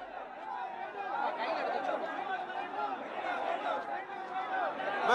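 Dense crowd chatter at a Tamil Nadu political gathering with heavy police presence, a continuous roar of overlapping voices that swells slightly louder, with occasional chuckles.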